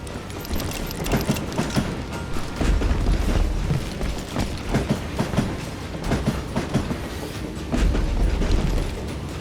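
A moving train in the video game Call of Juarez: Gunslinger rolls along with a steady rumble and rhythmic clickety-clack of wheels over rail joints, loud and continuous throughout.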